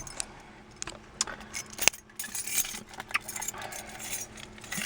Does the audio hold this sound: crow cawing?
no